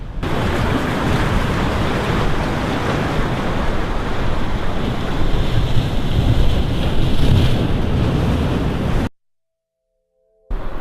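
Ocean waves crashing on rocks near the Fukushima coast, a loud continuous roar of surf mixed with heavy wind buffeting the microphone, ending abruptly in silence.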